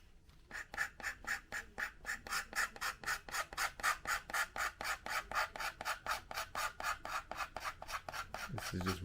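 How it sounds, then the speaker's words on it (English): Red parachute ink is scraped off a vintage 1972–1982 Centuri Vulcan model rocket in fast, rhythmic rasping strokes, about four per second, close and crisp with no talking. "This is just red parachute ink, and it comes right off when you scrape."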